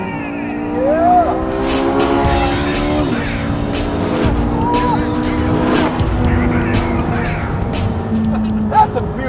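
A Porsche 918 Spyder supercar accelerates hard, its exhaust note rising in repeated pitch sweeps through the gears with some tire squeal, loud and continuous while people talk over it.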